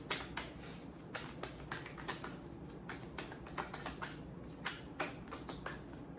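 Tarot cards being shuffled by hand, a soft, close run of rapid papery riffles and flicks in an irregular rhythm, fairly quiet with no talking.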